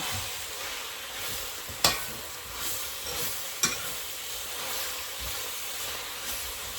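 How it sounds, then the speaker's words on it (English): Garlic and spinach sizzle steadily in a hot pan as they are stirred, a constant frying hiss broken by two sharp utensil clacks against the pan. "So I'm just stirring around, trying to get all those bits of garlic from the bottom so they won't burn"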